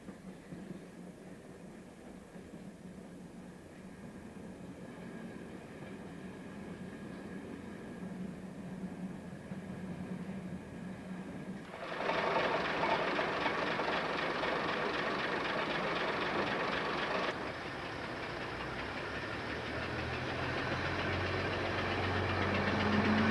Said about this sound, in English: 2 classes of diesel multiple unit are shown working over the line.